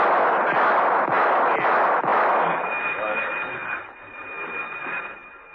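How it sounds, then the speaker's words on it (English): Warning gunshots in a 1960s espionage radio drama: a few sharp reports ring out in quick succession over a dense noisy bed, then a sustained tone and fading rumble follow. "whipped off a few warning shots and raced to the next corridor"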